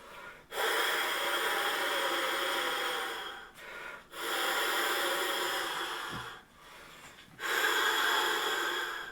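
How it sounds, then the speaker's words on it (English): Breathy rushes of air blown through a saxophone mouthpiece, three long sustained blows separated by short pauses, close and fairly soft. "if we take our mouthpiece and just blow the air"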